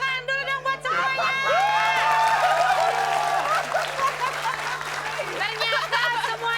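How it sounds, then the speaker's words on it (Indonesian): A studio audience bursts into loud applause and cheering, with many voices whooping and shouting over continuous clapping that swells and then holds near. "Kita kasih tepuk tangan dulu dong buat semuanya."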